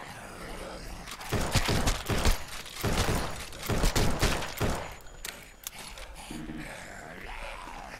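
Gunfire in the survival video game No One Survived, a dense cluster of sharp shots mixed with snarling creature noises, loud bursts over several seconds before fading to quieter ambience.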